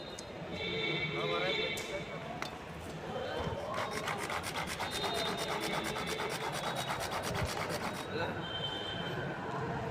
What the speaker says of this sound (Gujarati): આપણે ડુંગળીનું પણ એકદમ ઝીણું કટિંગ કરી લેવાનું છે